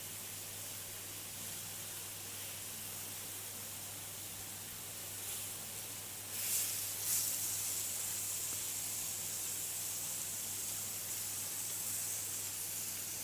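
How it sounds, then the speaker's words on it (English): Marinated fajita meat sizzles on a hot plate, producing a steady, close hiss with a brief louder spit partway through. "Oh, it's sizzling away."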